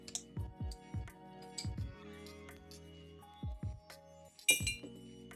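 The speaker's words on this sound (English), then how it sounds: "We have with us today a recurring set piece, the Pop-A-Lock bottle and can opener" A glass Cheerwine soda bottle is handled and opened with a Pop-A-Lock bottle and can opener, giving a series of close, quiet glassy clinks and taps with a sharper metallic snap near the end.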